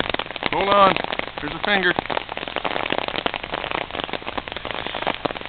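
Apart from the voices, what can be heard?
heavy rain falling on an umbrella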